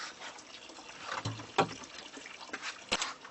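Liquid compost tea poured from a container into garden soil to water plants, a few soft splashing trickles and gurgles, close and fairly quiet, with no talking.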